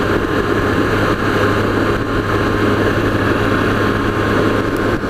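Steady, loud engine and wind drone from a 2016 Triumph Trophy SE touring motorcycle cruising at around 90 mph, a continuous low hum with constant rushing air and no speech.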